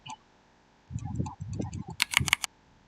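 Quick bursts of computer keyboard typing, a short run of soft key taps followed by a sharper flurry of clicks, close and fairly quiet, with a man muttering in between.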